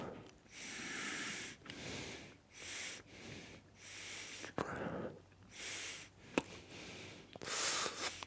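Slow, deep yoga breathing: long airy inhales and exhales, close and steady, in repeated cycles of about a second or two, with a brief sharper breath near the end.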